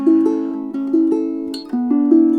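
A Kamaka longneck concert ukulele is plucked up close, a short phrase of clear, warm, sustained notes that step between a few pitches, with one sharp percussive tap in the middle.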